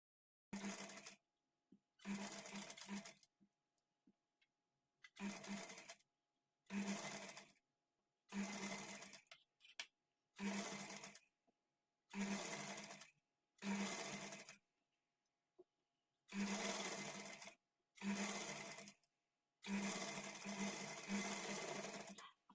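A sewing machine joins blouse sleeves with a half-inch margin in about a dozen short bursts of stitching separated by quiet pauses, close and fairly quiet.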